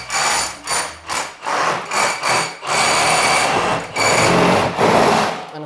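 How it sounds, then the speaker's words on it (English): A big power drill bores into a cottage wall during renovation, loud and close, starting with short repeated bursts and then running in longer sustained grinding stretches, with no talking. "So I get back, get the big drill. Okay, here it goes, everybody. I love noise."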